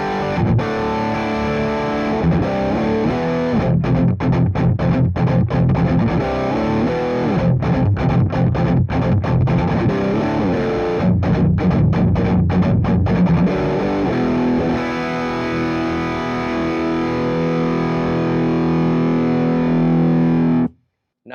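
Distorted electric guitar chugs heavy palm-muted riffs through a mini tube amp from the SLO, Friedman BE, Bogner Ecstasy or Diezel lineup, loud and dense with choppy staccato bursts and sustained chords, cutting off abruptly at the end.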